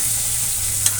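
Curry leaves sizzling in hot tempering oil, a steady bright frying hiss with a brief louder crackle near the end, no talking.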